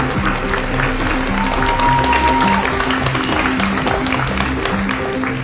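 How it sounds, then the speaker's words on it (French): Audience applause for Jules Fox, a steady sustained clapping from a crowd under a loud musical backdrop, lasting throughout. "S'il vous plaît, applaudissez Jules Fox."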